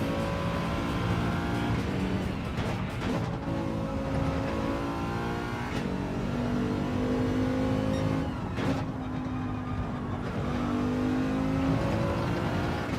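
Race car engine in the Gran Turismo video game, loud and continuous, revving up through gears with rising pitch sweeps and short shift breaks, heard alone.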